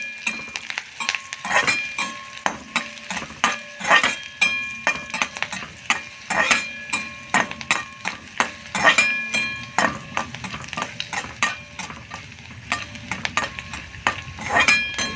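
Curry leaves sautéing in hot oil for idli, with a steady crackling sizzle and repeated clinks of a spoon stirring the pan, close and fairly busy throughout.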